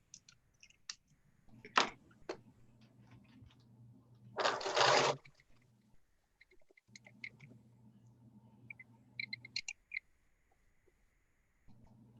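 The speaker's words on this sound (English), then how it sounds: "I'm just sewing right along, right inside, right near the edge." Sewing machine stitching along the edge of a face mask made from a t-shirt: quiet hums in two stretches, broken by clicks, a short loud burst of fabric handling and occasional sharp taps, all close and without speech.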